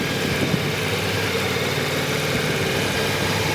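A motorcycle engine running at a steady low idle during a slow riding manoeuvre, a continuous even rumble with no talking.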